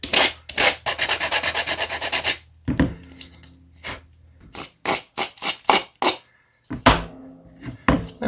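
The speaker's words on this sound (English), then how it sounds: "I'm going to use something with a little bit more coarser grit, so this the coarse edge of the permagrit block." Coarse edge of a Permagrit block sanding a glass-cloth vacform seat bucket, with a quick run of rapid back-and-forth rasping strokes followed by scattered single scrapes, close and crisp.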